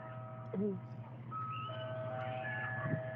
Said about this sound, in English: Locals would describe the chime of an ice cream truck,